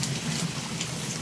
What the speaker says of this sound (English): this rain has gone on for weeks